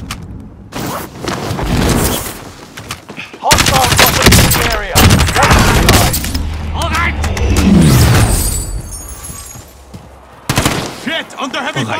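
Heavy Call of Duty gunfire hammers away in loud, close bursts of machine-gun and rifle shots, broken by short silences, with booms and radio-style voice chatter mixed in.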